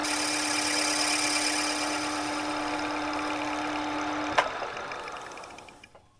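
A lathe turning a pattern for casting a piston hums steadily with a constant tone, then a sharp click as it shuts off and the whirring winds down to quiet.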